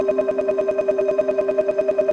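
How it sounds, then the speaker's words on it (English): A short, rapidly repeating electronic loop with a buzzy, tonal character, stuttering in a steady fast rhythm like a sample chopped and played backward. "it's like a double speed reverse, and then this is like a really short loop"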